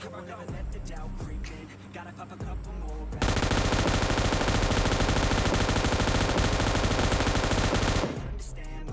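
Gunfire in PUBG Mobile during a solo-versus-squad match: scattered distant shots, then a loud, dense, sustained burst of rapid fire lasting about five seconds before it cuts off.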